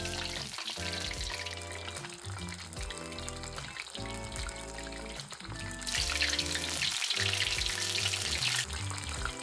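Shrimp tempura deep-fries over high heat, with a steady, bright sizzle of bubbling oil running throughout beneath tonal background music and growing louder partway through.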